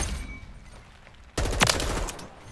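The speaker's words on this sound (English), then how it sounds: "Taking fire!" Gunfire bursts out in a multiplayer shooter video game after a quiet lead-in of low rumble, a loud dense volley with a sharp crack near the middle, continuing steadily to the end.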